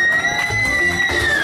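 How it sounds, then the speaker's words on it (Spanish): Crowd aboard a yacht cheering for a contestant at a party in San Andrés, a loud, steady wash of voices and whistles without any clear individual clapping. "El aplauso para el participante número 1."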